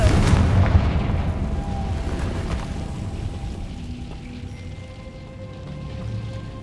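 A Confringo blasting spell going off in the Hogwarts Legacy video game: a heavy booming explosion at the start that rumbles and fades into a low ambient drone.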